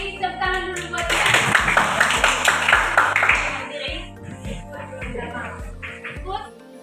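Students clap in a classroom, a short burst of rhythmic clapping that starts strong and thins out, heard under a teacher's and children's voices speaking throughout.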